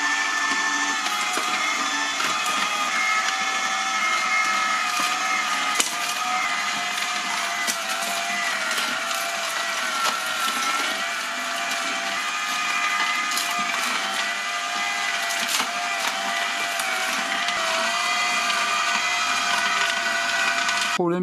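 An AMZCHEF HH-916F slow masticating juicer grinds through cucumber and carrots, a continuous loud mechanical whirr with crunching and rasping texture that runs steadily and evenly from start to end.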